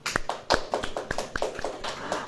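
A handful of sharp claps during a church sermon, irregular and sparse, with a few louder strikes standing out over a faint background murmur.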